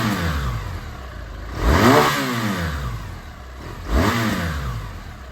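A 2017 BMW R 1200 GS Adventure Triple Black motorcycle engine idles, then is revved sharply twice, each blip climbing and falling back, close and fairly loud with no talking.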